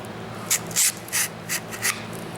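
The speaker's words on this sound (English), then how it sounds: "as you sand down this trigger stop" Sandpaper of 180 or 220 grit rubbed against the trigger stop of a Springfield XD45 pistol, heard as several short, close scratchy strokes at an uneven pace over a quiet background.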